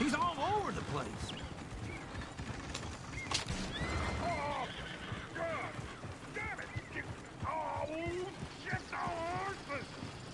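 A horse whinnies several times in the video game Red Dead Redemption 2, amid a busy, cluttered scene with voices talking underneath and other calls and clatter throughout.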